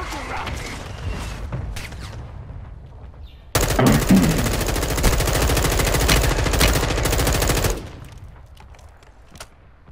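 Video game gunfire bursts into a loud, dense rapid volley of automatic shots lasting about four seconds, preceded by a few scattered single cracks and followed by fainter distant shots, with no talking.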